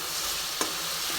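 Sour yogurt stirred into chicken and eggplant masala frying in oil, heard as a steady loud sizzle with a single scrape of the spoon against the pan near the middle.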